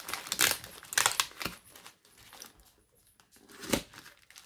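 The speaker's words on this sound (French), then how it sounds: "Je vais couper un petit peu au niveau du scotch et du plastique." Tape and plastic wrapping on a Christmas parcel being cut and torn open, giving close crinkling, rustling bursts with brief scissor-like snips in between quiet gaps.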